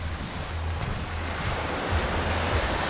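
Sea waves wash onto the shore at Alanya, Turkey, a loud, steady rushing surf with wind buffeting the microphone and no voices.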